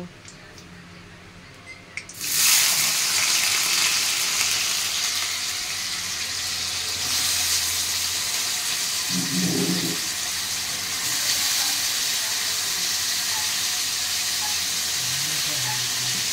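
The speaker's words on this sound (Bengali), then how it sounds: "তারপরে আলুগুলো একে একে ছেড়ে দেব।" Potatoes hit hot oil with a little salt in it and start frying, giving a sudden loud, steady sizzle that carries on close up, with a brief clatter midway.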